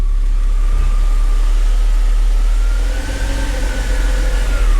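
A 2004–05 Mercedes CLK320 W209 with a V6 runs steadily in reverse, its wheels spinning, giving a loud, continuous close-up engine drone with a rising whine and no voices.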